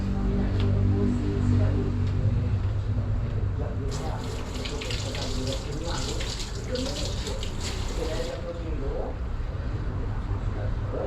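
Tap water runs steadily into a sink during hand washing, a continuous close splashing rush that lasts throughout, with a burst of brighter splashing in the middle while a person talks over it.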